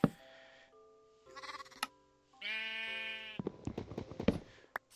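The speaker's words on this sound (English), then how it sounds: "I need sheep. I need your succulent meat." Sheep bleat in a farming video game, a few separate drawn-out cries with pauses between them and some clicking game effects, heard alone with no talking.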